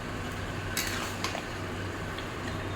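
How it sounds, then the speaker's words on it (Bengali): Pressure-cooked mutton is stirred in a pan, with faint clinks and scrapes of a utensil against metal over a low background sizzle, a couple of brighter knocks early on, close but quiet and without speech. "পুরো মটনটা এখন এর মধ্যে দিয়ে দেবো। আস্তে আস্তে এটাকে নাড়তে থাকবো।"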